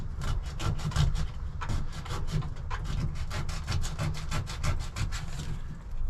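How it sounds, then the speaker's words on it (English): Sandpaper scrubbing bare metal on a Ford F250 to make a good ground for a diesel heater install, fast rhythmic back-and-forth rasping strokes, close and steady throughout. "I am going to grab some sandpaper and sand away here to make sure we have a good ground."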